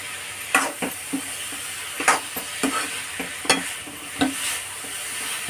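Spoon or spatula scraping and stirring a thickening cardamom and fresh coconut filling in a pan, irregular knocks and scrapes every second or so over a faint steady sizzle, close and alone.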